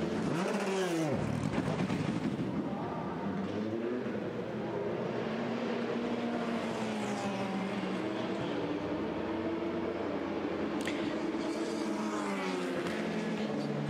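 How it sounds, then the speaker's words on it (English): A Le Mans race car, the IDEX Sport entry, rolls down the pit road with a steady engine drone and shifting pitch, under a constant bed of crowd and track noise. "the IDEX Sport car coming down the pit road"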